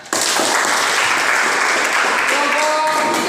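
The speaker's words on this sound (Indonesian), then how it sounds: "Tepuk tangan." A group in a classroom claps together in a dense burst of applause, fairly loud and sustained, with a faint voice emerging toward the end.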